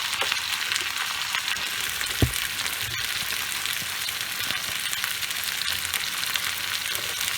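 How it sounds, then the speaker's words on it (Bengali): Tyangra fish fry in hot oil with a continuous bright sizzling hiss at moderate volume, broken by a single sharp utensil knock and a few faint clicks, and no voices. "এটা সামান্য ভাজা হোক"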